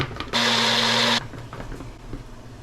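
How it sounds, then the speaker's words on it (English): A blender whirs loudly for under a second while blending canned corn with heavy cream in a kitchen, a dense roaring burst that cuts off abruptly, followed by quieter kitchen noise. "I'm gonna use some of the canned corn to blend up some heavy cream"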